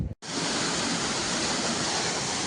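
Water from a farm borewell near a wheat field gushes steadily after a brief silence, forming a loud, constant rushing splash that continues without pause.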